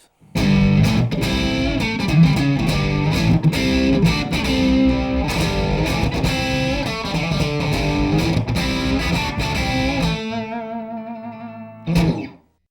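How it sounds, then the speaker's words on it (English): A distorted electric guitar with humbucker pickups plays a thick, driven riff with chords and notes, ending in a sustained ringing chord and a brief final strum. "And finally, the sound of humbuckers."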